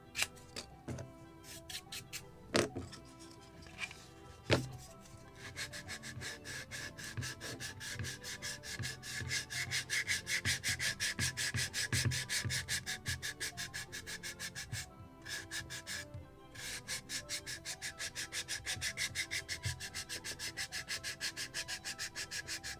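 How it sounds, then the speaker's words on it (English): Steady, rhythmic sanding strokes rub across the wooden cabin of a Midwest lobster smack model boat kit, close and fairly loud, starting with a few scattered knocks before settling into continuous back-and-forth rasping. "everything should be sanded just to remove this hairy"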